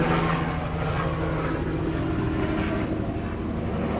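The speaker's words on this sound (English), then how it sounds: "Helicopter guys, sorry." A helicopter flying overhead, a loud, steady low rumbling drone that fills the whole stretch without fading, with no talk over it.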